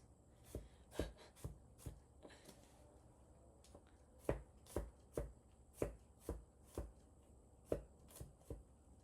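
Garlic being roughly minced with a knife on a board for Filipino bistek marinade, a series of sharp close chops in an uneven rhythm, some spaced apart and some in quick runs.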